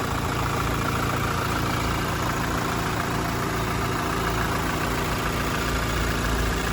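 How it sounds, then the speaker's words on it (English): A Toyota Prado engine idles close by, a steady, unbroken mechanical hum and rumble with no voices over it. "As you can probably hear, I do have the car running as well."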